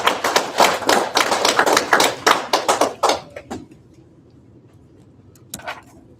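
Audience clapping at a community gathering, a dense burst of hands for about three seconds that thins into a few scattered claps and then near quiet, with one late stray clap.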